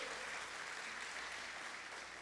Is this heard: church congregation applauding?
yes